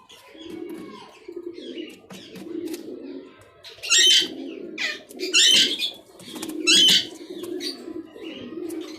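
Pigeons in a home loft coo in low, rolling murmurs while wings flap in several loud bursts close by, alongside bright chirps and rustling.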